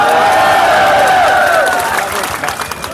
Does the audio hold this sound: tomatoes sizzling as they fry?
no